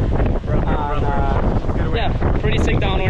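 Strong wind buffets the microphone during a kiteboarding downwinder on a very windy day at Cabarete, a dense continuous roar with water noise throughout the clip.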